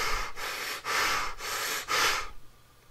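A voice imitates breathing through clenched teeth: four loud, hissy breaths in a steady rhythm, each pulled sharply and close, then trailing off into quiet.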